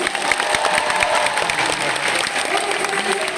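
Loud, dense applause from a big audience at the Anim'Est 2022 anime convention after a cosplay segment, sustained and even throughout, with a murmur of crowd noise beneath.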